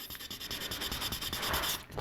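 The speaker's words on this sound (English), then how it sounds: "This is the wet sanding process." Quick back-and-forth strokes of wet sandpaper smoothing primer on a 1/72 Sinanju model kit, a soft, even scratchy rubbing repeated steadily at close range.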